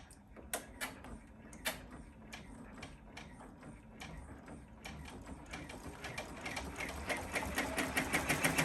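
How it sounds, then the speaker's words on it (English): An embroidery sewing machine runs chenille channel stitches through layered fabric, giving a steady close mechanical whir with rapid rhythmic needle clatter that grows louder and more regular toward the end. "This is going to run all of the chenille channel stitches."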